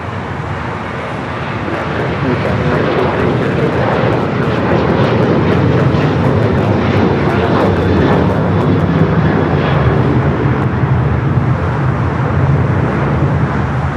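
American Airlines flight 1979 lands on runway 25 left at LAX, producing a steady, loud, broad engine roar that holds evenly throughout without pause.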